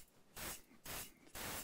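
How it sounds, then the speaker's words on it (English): Finish being sprayed onto an Ibanez AM93 Artcore Expressionist semi-acoustic guitar during repair work, heard as three loud, close bursts of aerosol hiss separated by short pauses. "So here goes with the spray."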